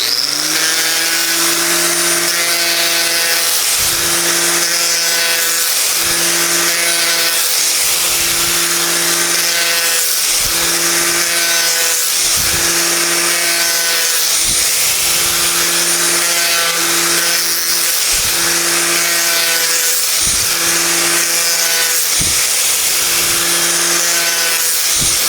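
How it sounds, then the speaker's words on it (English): A disc grinder chamfers metal link pin bushings with a loud, continuous motor whine and grinding hiss, broken by regular short dips as each piece is pressed on and lifted off. "we're going to chamfer these real quick on the disc grinder"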